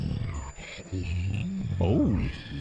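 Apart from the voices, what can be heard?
brontosaurus roar from video game Lost Eden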